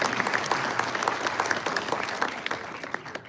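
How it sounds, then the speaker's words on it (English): An audience claps after a Bian Lian mask-changing performance at a Lunar New Year show, a lively round of applause with sharp individual claps standing out and a few cheers. "Yes, one more round of applause,"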